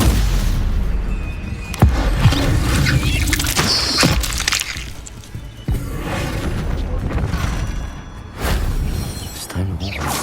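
Spell blasts boom and crack in Hogwarts Legacy combat, several sharp explosive hits spread through a busy fight scene, loud and close, while a voice shouts spell names over the action.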